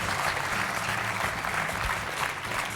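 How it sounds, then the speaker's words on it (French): A studio audience on a French TV game show applauds steadily, a dense, even wash of clapping that holds at full strength throughout. "je voudrais juste que tout le monde vous applaudisse encore très fort"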